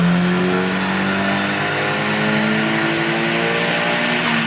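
A turbocharged Nissan 180SX engine runs at full throttle on 15 psi of boost, a loud continuous rev climbing steadily in pitch for several seconds with no voices over it.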